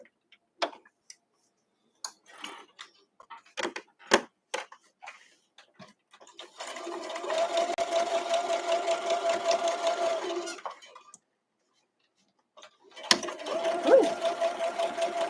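Sewing machine stitching a scrap-friendly weathervane quilt block at a quarter-inch seam: scattered clicks and taps first, then two bursts of fast, steady rattling stitching close by, with a brief voice exclamation.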